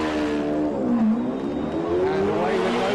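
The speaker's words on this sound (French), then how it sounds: "They're side by side as they accelerate now up to maximum speed, the fastest part of the circuit" McLaren F1 race cars running side by side and accelerating hard toward top speed on the fastest stretch of a racing circuit, a loud sustained engine roar with rising and falling pitch that dominates throughout.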